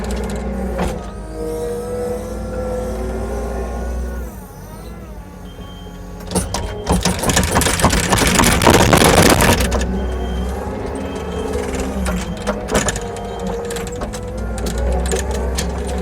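A skid steer loader tractor pushes dirt and material into one big pile, its engine and hydraulics droning steadily nearby, then swelling into a louder, harsher roar for a few seconds as it shoves the load before settling back.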